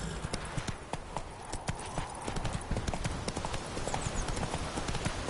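Horse hooves clip-clop at a brisk, steady trot in The Witcher 3 game, rapid close hoofbeats repeating throughout over a dense background of ambient noise.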